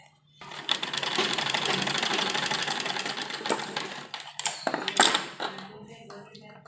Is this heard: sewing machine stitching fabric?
yes